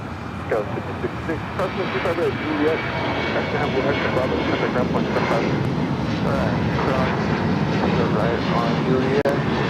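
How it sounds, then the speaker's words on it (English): A jet airliner takes off at LAX, its engine roar broad and steady at a moderate distance, with people talking over it the whole time. "Beautiful takeoffs."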